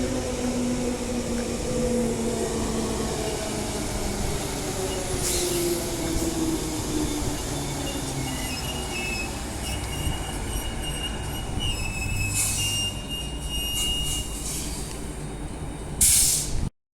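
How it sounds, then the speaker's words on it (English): A passenger train rolls through Perth Stadium Station at close range, a continuous rumble with wheels squealing and hissing, ending abruptly. "there's the Perth bound train, the next Victoria Park one"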